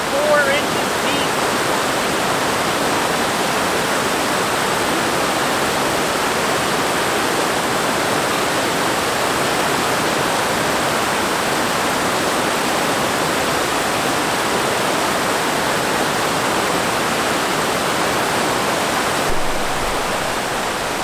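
A powerful, shallow stream only about four inches deep rushes over rocks at a wild campsite. The roar is loud, close and continuous, a steady hiss of water that does not let up.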